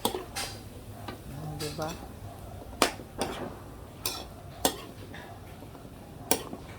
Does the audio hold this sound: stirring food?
yes